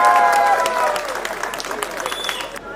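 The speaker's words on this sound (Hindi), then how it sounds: "भारतीय जनता पार्टी की वॉशिंग मशीन के लिए जोरदार तालियां।" A crowd at an Aam Aadmi Party political gathering breaks into loud applause, a busy patter of clapping that slowly thins out, with voices mixed in.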